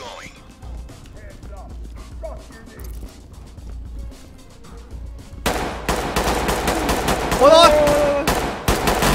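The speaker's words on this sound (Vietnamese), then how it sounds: "Các đồng chí lại đấu súng với dân rồi." Gunfight in the tactical shooter Ready or Not: after a quiet stretch with a brief exclamation, rapid bursts of close, loud gunfire erupt and continue, shots cracking in quick succession.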